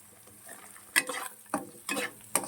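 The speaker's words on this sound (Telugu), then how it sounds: "ఇలా ఎగ్ ఫ్రై చేసుకుని ఇస్తున్నాము" An egg fries in a pan with a pinch of salt, a faint sizzle under a few scattered stirring scrapes and taps in short bursts.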